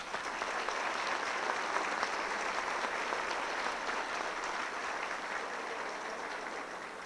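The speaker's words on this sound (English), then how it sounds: "Please, a round of applause." Audience applause at the Petaluma Sesquicentennial celebration, a steady, dense wash of clapping from a crowd that holds evenly for about seven seconds and eases slightly near the end.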